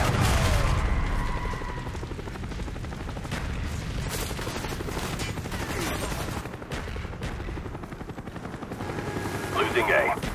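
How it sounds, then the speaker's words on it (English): Cobra attack helicopter in Call of Duty Black Ops multiplayer, its rotor chopping steadily under a busy mix of gunfire bursts, distant explosions and game voice announcements. "Friendly Cobra inbound."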